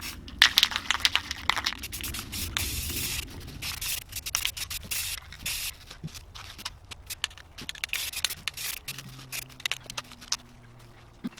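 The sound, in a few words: spray paint being sprayed onto a tumbler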